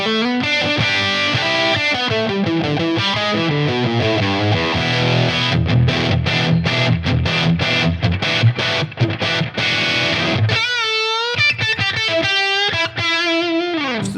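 Electric guitar through a Tonex Plexi amp model on a higher gain setting, loud distorted chords and riffs played steadily, ending with sustained ringing notes and bends.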